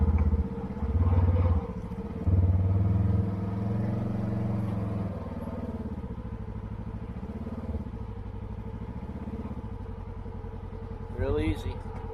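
Polaris General UTV, a 2019 model on its stock clutch, climbing over a log off-road: the engine idles and revs with rising and falling tones, clattering over the obstacle while a person talks nearby.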